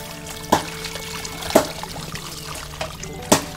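Water pours and splashes in three short, separate bursts over a low steady background hum, close by in a home.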